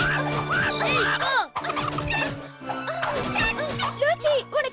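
Cartoon chickens cluck and squawk in busy, overlapping calls nearby, almost continuous, with brief pauses between bursts.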